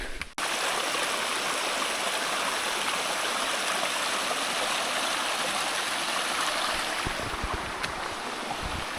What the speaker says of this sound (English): Lovely sounds of a brook